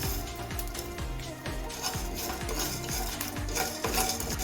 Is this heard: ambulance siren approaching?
no